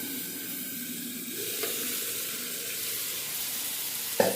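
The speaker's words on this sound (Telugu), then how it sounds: "ఇదిగోండి వేగిపోయింది, బాగా ఎర్రగా వేగాలండి. తాలింపు ఎర్రగా వేగితేనే బాగుంటుందండి." Tempering of spices sizzling steadily in hot oil for a mango and amaranth dal, a continuous close frying hiss with a brief clatter near the end; no voices.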